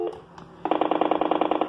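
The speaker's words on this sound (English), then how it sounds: "that's impulse dialing" Quiet electronic bleeps, then a steady rapid train of about twenty evenly spaced clicking pulses, like a rotary phone's pulse dialing heard through a line.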